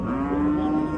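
A young cow at a livestock bazaar in Jizzakh moos once, a loud, close, sustained low call that fills the whole moment.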